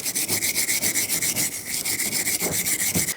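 Wire brush scrubbing rust off the front brake hub of a 1995–2004 Toyota Tacoma 2WD, loud close rasping strokes in a fast even back-and-forth rhythm with no talk.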